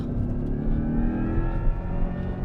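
A Corvette E-Ray on a racetrack runs steadily as its electric motor whirs over a hybrid engine's drone, a continuous close hum with a faint alien, spaceship-like tone and no talking.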